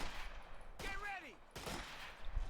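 Gunfire in a World War II strategy match, heard as dense bursts of shots spread across the clip with a brief whistling sweep in between, under a commentator's talk.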